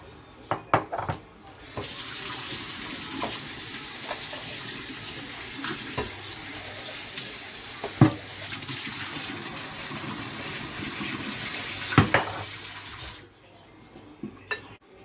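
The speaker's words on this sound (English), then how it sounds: "rinse your vegetables, and make sure that you rinse them well" Water from a kitchen tap runs steadily into a sink while vegetables are rinsed for keto salads, a continuous hiss lasting most of the clip, broken by a few soft knocks and clunks, with no talking.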